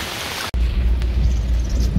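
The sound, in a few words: rain during a flood in Banjarmasin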